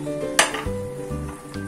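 Ground spices sizzle in hot oil in a pot while being stirred for Pakistani daal maash, with a sharp clink of a utensil against the pot and soft scraping over a steady frying hiss.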